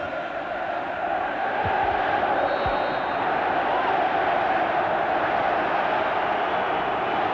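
Crowd of just over 50,000 at Wembley during an England v Norway football match: a broad, steady roar of fans that stays loud and even throughout, with a couple of brief low thumps early on.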